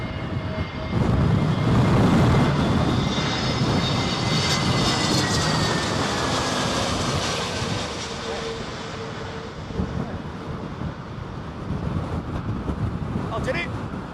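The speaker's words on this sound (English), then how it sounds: "that must have been a very late go around then" A jet airliner roars steadily as it attempts to land at Heathrow in Storm Henk's strong winds, with gusts buffeting the microphone and muffled voices talking underneath.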